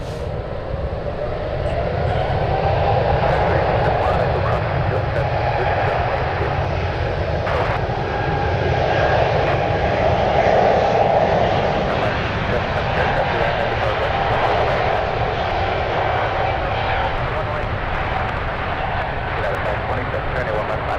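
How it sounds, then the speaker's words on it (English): A SkyWest Embraer E175 on a go-around at San Francisco, its engines a loud, sustained roar across the whole stretch, with someone talking over it. "A E175 SkyWest coming in from LAX"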